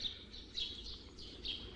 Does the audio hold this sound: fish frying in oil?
no